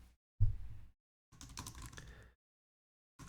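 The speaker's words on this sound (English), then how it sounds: "I'm typing to him." Short bursts of tapping on a phone or keyboard while a text message is typed, two brief clusters separated by silence, close and fairly faint.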